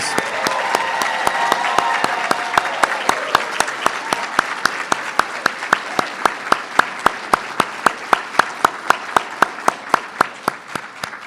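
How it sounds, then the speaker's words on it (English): A crowd at a student awards night applauds warmly nearby, the clapping gradually settling into a steady rhythm of sharp, evenly spaced claps. "give you one thunderous round of applause"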